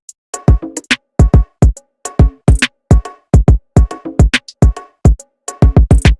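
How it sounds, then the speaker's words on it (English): Dark African trap beat built in FL Studio, with bongos and a tom layered over the drums: a loud, steady run of quick percussive hits, some carrying a pitched, resonant tone, repeating rhythmically throughout. "I just had to throw in some bongos"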